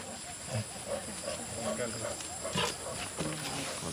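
Lions in Senegal, near the border with the Gambia, give low growls and rumbling calls at close range amid steady outdoor noise, while people talk nearby.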